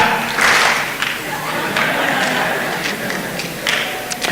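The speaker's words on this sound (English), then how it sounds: "Simon says clap. Clap." An audience at a national exhibition claps together in a crowd game, a dense spread of handclaps with scattered louder slaps, steady and fairly close throughout.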